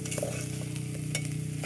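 Fried rice stirred in a small pan, a steady close sizzle with scraping utensil strokes and light clinks running throughout, no voices.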